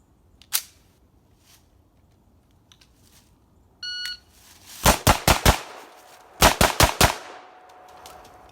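An MP5K fires at targets on a range, with a single crack followed by two quick bursts of four sharp shots each, loud and close, and a short electronic timer beep before them.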